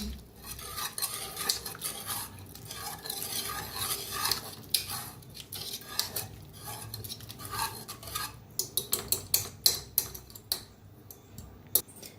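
A spoon stirs cooked dill greens in a pressure cooker pot, making soft squelching scrapes with sharp metallic taps against the rim that grow quicker and more frequent toward the end, close and clear.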